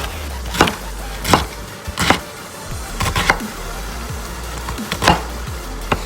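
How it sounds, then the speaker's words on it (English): Several sharp knife strikes through chicken against a cutting board, spaced irregularly with brief pauses between cuts, close and fairly loud. "we can just slice it even further"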